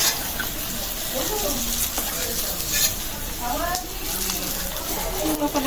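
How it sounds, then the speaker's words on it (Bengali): Food sizzling steadily in hot oil in a pan during a home cooking session for river tengra fish and brinjal, with stirring scrapes and muffled voices in the background throughout. "আর একটু ভালো করে ভাজলাম"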